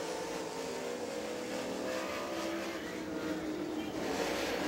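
A Super Late Model race car with a new Barry Wright chassis comes around the track at Rome Speedway in Georgia, a faint, distant, continuous engine roar blending into broad background rumble.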